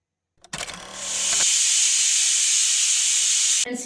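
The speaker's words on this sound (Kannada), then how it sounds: "ಈಗ ನಾನು ಮುಚ್ಚಳ ಮುಚ್ಚಿಬಿಟ್ಟು 3 ವಿಷಲ್ ಹಾಕಿಸ್ತೀನಿ." A pressure cooker cooking greens lets out a loud, steady steam whistle-hiss lasting a few seconds, preceded by short rattling bursts and cut off abruptly near the end.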